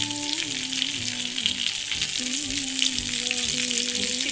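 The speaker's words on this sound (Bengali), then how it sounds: "এই তেলের মধ্যেই আর একটু আমি সাদা তেল দিলাম" Chicken frying in hot white cooking oil for a Bengali New Year dish, a steady loud sizzle with bubbling that runs without pause, close up and alone with no talk.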